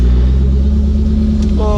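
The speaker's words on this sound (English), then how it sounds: "We're driving the Vic, boys." A heavy Crown Vic car without power steering, its engine rumbling low and steady as it drives, loud and close, with a brief higher tone near the end.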